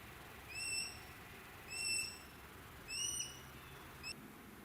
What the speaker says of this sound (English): the calls it's giving sound like begging calls.